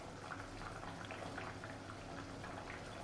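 Misal curry simmering on a medium flame, a faint, steady bubbling and soft popping with a low background hum, no voices.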